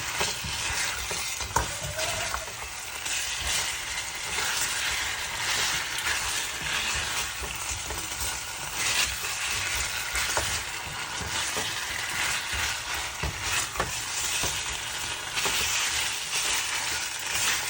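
Pork ribs being mixed by hand with seasoning in a bowl, a steady close wet rustling and squelching with occasional clinks, continuous and fairly quiet, no speech.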